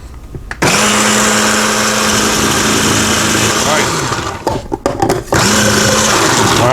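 MRQ food processor motor running on low while slicing cucumber, a loud steady whine that cuts out briefly and restarts, with a voice speaking near the end.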